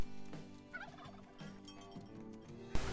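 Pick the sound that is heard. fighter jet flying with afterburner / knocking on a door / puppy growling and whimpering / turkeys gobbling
turkeys gobbling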